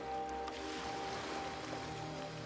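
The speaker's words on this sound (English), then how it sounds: "Just listen to the sound of the waves" Ocean waves wash in a soft, continuous hiss and low rumble, steady and fairly faint, with a faint hum beneath.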